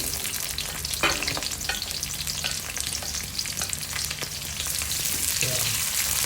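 Onions fry and sizzle steadily in a pan while being stirred for Filipino squid adobo, with occasional scrapes over the continuous crackle.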